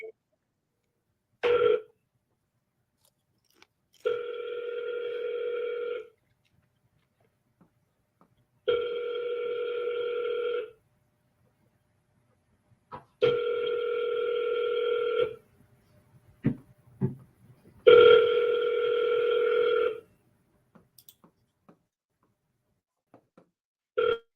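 Ringback tone of an outgoing phone call, heard through the handset four times in an even rhythm of long buzzy rings with silent gaps between them, a few faint clicks in between and no talk over it.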